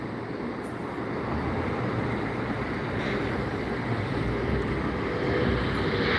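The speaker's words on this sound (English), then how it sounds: "I hear an airplane" A steady, broad roar like a passing airplane overhead, heard from outdoors during a walk, rising slightly and sustained throughout with no talk.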